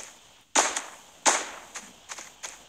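Gunshots from the mobile video game Battlelands crack out in a few sharp, separated bursts over near silence, the first two loudest and the later ones quicker and lighter.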